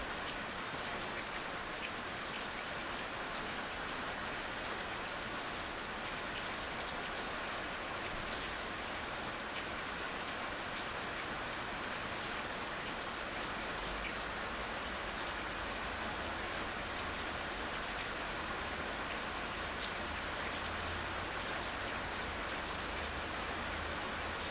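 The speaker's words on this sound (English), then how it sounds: "sound of the rain sounds nice in the background" Steady rain falling outside, a dense continuous hiss of drops with a faint low rumble toward the end, no voices.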